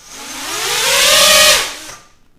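Drone motor spinning a DAL 6045 tri-blade propeller on a testbench, a short whirring throttle burst that rises in pitch and loudness, holds briefly as a strong buzzing whine, then spins down and fades within about two seconds.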